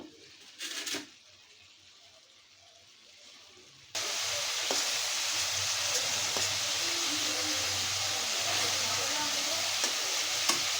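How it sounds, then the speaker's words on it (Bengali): After a quiet start, a steady hiss of onions sizzling in oil fills the rest, with faint stirring clicks in a pan nearby. "আমি ওখানে এই পেঁয়াজটাও দিয়ে দিব এখানে একটু ভাজা হওয়ার জন্য"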